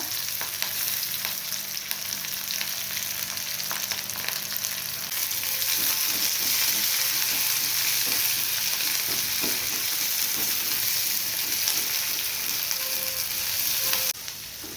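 Chopped onion, finely cut green chili and a few curry leaves fry in oil in a pan for a spicy Kolhapuri misal, giving a steady, close crackling sizzle throughout with occasional stirring ticks and no talk.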